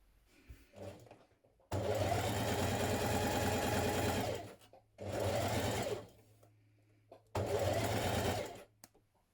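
A sewing machine runs a line of ease stitching around the tops of blouse sleeves in three sustained bursts, the longest about three seconds, with short pauses between and a faint low hum continuing underneath.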